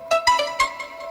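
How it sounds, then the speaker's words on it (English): A bright synth line run through two analog-style vintage delays plays a few quick stabbed notes whose echoes trail and smear together, up front and without any talking. "We got two analogs, which is sort of just like a vintage delay."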